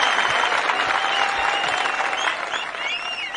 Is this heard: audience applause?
yes